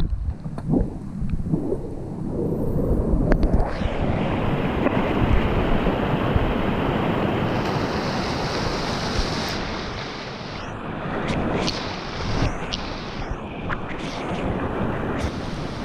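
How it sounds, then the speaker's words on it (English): Footsteps splash across Pole Creek, a mountain stream crossed during a 100-mile trail run in the Hardrock race, over loud, continuous rushing water mixed with wind buffeting the microphone, with brief gusts and shifts near the end. "Another crossing of Pole Creek."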